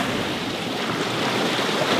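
A sailboat running at about six knots off Roatan, with a loud, steady rush of ocean waves and wind washing against the hull and microphone, continuous with no voices.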